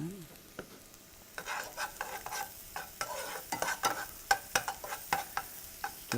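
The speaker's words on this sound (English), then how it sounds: "I love the sound of that stuff cooking" Garlic and the white part of green onion sizzle softly in a pan, with frequent clicks and scrapes of a utensil stirring them, close by and without talk.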